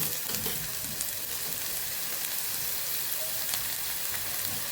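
Continuous sizzle and crackle of coriander-cumin powder, turmeric and asafoetida sautéing in hot oil, steady and close, with faint stirring now and then.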